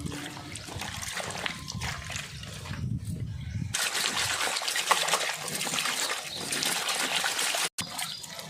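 Tap water runs and splashes while mushrooms are washed by hand in a kitchen, a close, soft trickle with small splatters and shifts as the flow changes.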